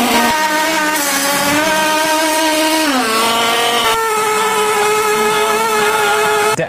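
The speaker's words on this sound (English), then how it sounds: "We're going to see if we can actually power the guitar using only the engine." A gas engine drives a generator to power an electric guitar amp, running loud and steady with a strong harmonic drone that steps down in pitch around three seconds and shifts again near four seconds, with no talking.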